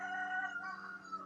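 A rooster's crow, a single drawn-out harmonic call that fades at the end, heard clearly with no talking.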